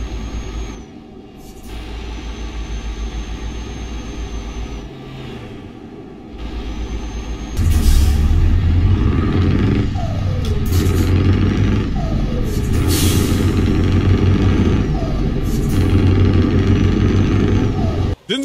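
A heavy truck engine in Euro Truck Simulator 2 fitted with a straight-pipe muffler mod, a steady low rumbling drone that grows louder and rougher partway through, with occasional hiss bursts like air brakes, under quiet talk.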